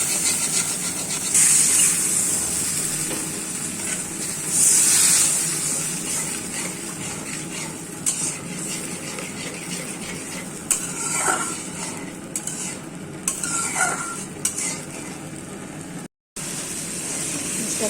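Spice paste being sautéed in a pan for a fish and tomato-potato curry, a continuous low sizzle with intermittent spoon scrapes and taps as it is stirred, close by, with a brief dropout near the end.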